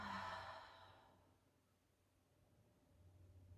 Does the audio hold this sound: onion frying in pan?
no